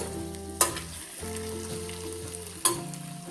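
Prawns fry with masalas in a pressure cooker, giving a steady close sizzle and hiss with two sharp metallic scrapes as the mixture is stirred.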